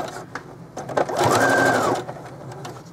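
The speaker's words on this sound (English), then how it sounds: "And then I just want to do a back stitch." A sewing machine runs a short burst of back stitching on elastic for a cotton slip's waistband, a steady fast whir rising for about a second and then stopping, close and clear with soft handling noises around it.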